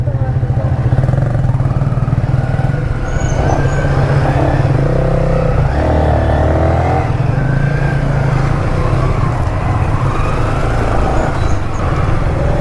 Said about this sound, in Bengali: দেখতে পাচ্ছ 4টে বাইক চলে এসছে